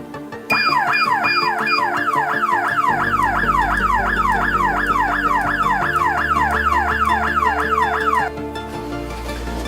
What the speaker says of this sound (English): We're gonna simulate the door opening or window opening, and it should set off the horn and the siren.